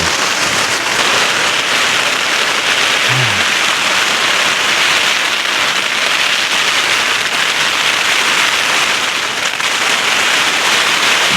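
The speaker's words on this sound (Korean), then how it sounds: "비가 비가 어마무지하게 옵니다" Heavy rain pours onto a tent pitched high on a 1,571 m mountain during a summer downpour while backpacking, a dense, unbroken hiss of drops drumming close and loud throughout.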